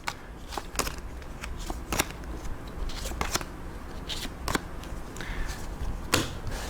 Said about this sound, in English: You shuffle each of these decks separately, so you've got a blue, a green, an orange, a purple, and a red.